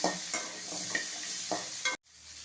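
Garlic and ginger sizzle in hot oil for a mutton curry while a spoon stirs the pan with repeated scraping strokes, a steady close frying hiss that cuts off abruptly near the end.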